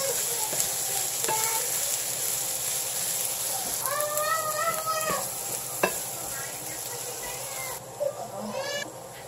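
Pork sisig with mayonnaise being stirred in a frying pan: a soft, steady sizzle with scraping stirs of the spatula against the pan, moderately quiet, and no one talking.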